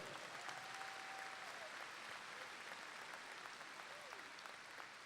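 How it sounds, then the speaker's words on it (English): A high school graduation crowd applauds steadily in a large space, the clapping faint and distant, blended into a continuous wash with a few cheers or whistles. "Let's give a big round of applause for our administrators being relentless to ensure everybody gets here today."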